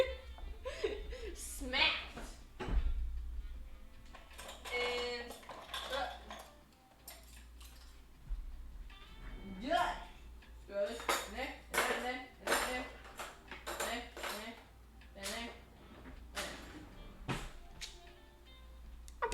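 Clean dishes, a cup and a cutting board being put away in a home kitchen, with repeated clinks, clatters and scrapes of plates and cutlery under a person talking and chuckling.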